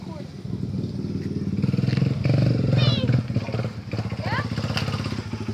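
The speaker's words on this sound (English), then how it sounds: "Daryl, can you record me and Hayden riding?" A dirt bike engine runs steadily close by during riding outdoors, its buzzing drone rising and falling slightly throughout, with voices talking over it.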